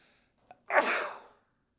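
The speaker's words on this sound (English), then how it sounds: "That was a violent sneeze." A single sharp sneeze close to the microphone, preceded by a brief intake of breath, with silence around it.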